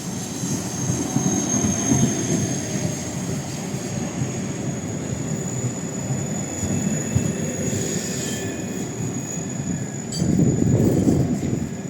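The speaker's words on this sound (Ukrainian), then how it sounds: "Трамвайчик, одиничка, на цей раз електрон." A Lviv city tram, an Electron model on route 1, rolls along the rails in winter, a steady low rumble with faint wheel squeal that swells again near the end, no voices.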